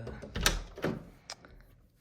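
A bedroom door swings open with a couple of close, soft thuds and a brief creak-like rattle, followed by a faint knock in a quiet indoor room.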